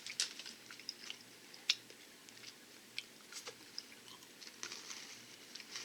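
Crunchy Haldiram's Nagpur Mini Bhakarwadi, small spiced rolled snacks, being chewed close up, with irregular crisp crunches and bites popping out of a quiet background.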